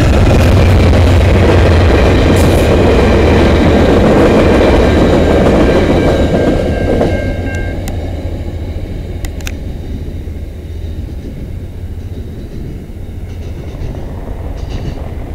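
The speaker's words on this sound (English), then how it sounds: "we got VIA 78 coming down the line" VIA Rail passenger train 78, led by engine 904, rushes past close by on the Dundas Subdivision in London, Ontario, with loud rolling wheel noise and rail squeal that fades as the cars pull away.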